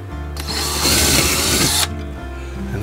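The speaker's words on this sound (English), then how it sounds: "You don't want to drill too far in here, you'll end up outside." A power drill whirs loudly for about one and a half seconds, drilling into an RV wall, its motor rising to a steady high whine before stopping, with machine hum before and after.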